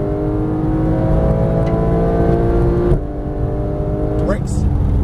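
Porsche 911 GT3 (991) engine pulling hard on a Las Vegas track, a steady loud drone with rising harmonic tones, a brief dip near three seconds, then building again, with a voice talking over it.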